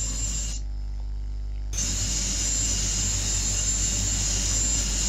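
An airliner on approach to Toulouse-Blagnac at dusk, holding heading 105 while awaiting tower clearance: a steady, continuous engine drone from the cabin, with a short break in the sound early on before the constant roar resumes.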